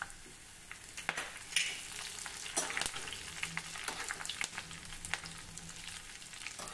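Garlic and green chilies fry in hot oil for a Vidarbha-style gola bhat tempering, with a steady crackling sizzle broken by sharp stirring clinks and scrapes close by; no voices.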